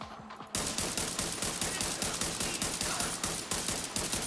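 Rapid automatic gunfire from a machine pistol and assault rifle in a hostage-rescue shooter game, dense continuous bursts starting after a brief quiet moment and staying loud throughout.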